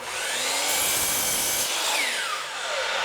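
A power saw cuts through a wood board in an indoor bedroom carpentry setup, a loud continuous whining buzz that holds steady across the cut and dips briefly near the end, with no talking.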